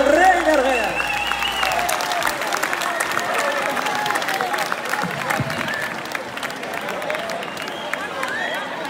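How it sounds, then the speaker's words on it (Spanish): A crowd at a lively local show in Arguedas breaks into loud, sustained applause and clapping with some cheering, filling the space for several seconds before easing slightly. "Fuerte aplauso para Isidro, impresionante"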